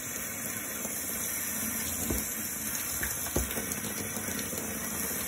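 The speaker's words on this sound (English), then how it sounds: "pour water over them in the cup" Lukewarm water poured from a cup over a chicken during a bath, a steady close running-water wash with a couple of brief splashy bumps.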